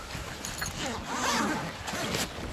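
A zipper on a fishing cargo travel bag is pulled open in one long, close rasping run, with someone speaking briefly around it.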